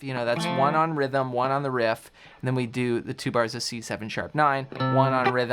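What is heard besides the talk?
None of the usual background noises is heard.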